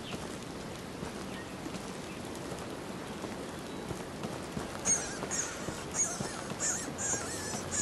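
Rain in the hunting video game Hunting Simulator 2, a faint steady hiss of falling rain with several soft honk-like bird calls rising toward the end.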